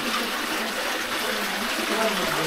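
Water welling up from an underground spring hole in a deep pool, heard as a steady, close, broadband rushing gush with no pauses.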